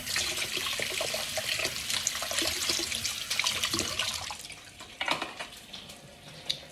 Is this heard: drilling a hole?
no